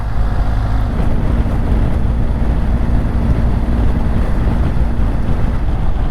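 Steady, loud wind buffeting over a low engine drone while riding a BMW GS motorcycle through scenic countryside in Spain, continuous with no talk.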